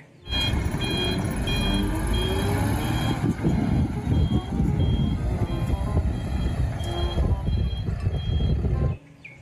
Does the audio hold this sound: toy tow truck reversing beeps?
yes